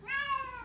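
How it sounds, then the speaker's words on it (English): A female cat meows plaintively during an oatmeal bath, one drawn-out, rising and falling cry, close and fairly loud, with no speech over it. "Meow."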